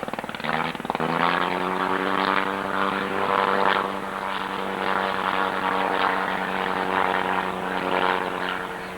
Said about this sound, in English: Again, powered with the 110 horsepower Aero rotary